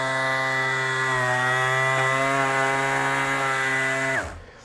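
FLEX FX3411 24V brushless 5-inch cordless random orbital sander runs steadily under pressure, a loud constant whine and hum that holds for about four seconds before cutting off abruptly and spinning down.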